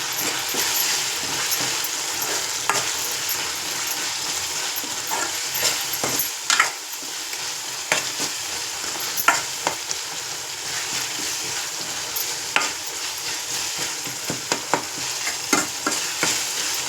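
Tomato curry with chili powder being stirred and fried in a pan, a steady loud sizzle with repeated scraping and clinking stirring strokes over it, close by and without talk.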